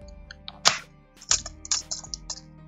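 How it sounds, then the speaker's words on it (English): A keyboard is pried out of a Toshiba Satellite L655 laptop with a few sharp plastic cracks and snaps, plus light clicking and tapping, close and fairly quiet. "take this keyboard out"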